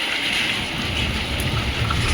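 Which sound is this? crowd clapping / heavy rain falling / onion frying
heavy rain falling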